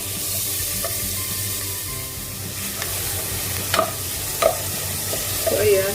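Chopped onion stirred and sautéing in a hot pan until translucent, a steady close sizzle with scraping spatula strokes breaking through now and then.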